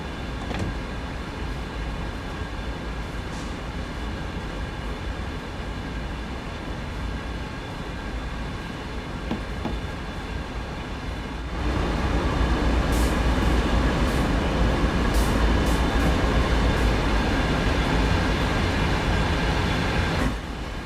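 Steady train running noise in the London Commuter route of Train Sim World 2, a continuous rolling rumble with wheel and track sounds that grows louder and fuller about halfway through, with faint high clicks near the end.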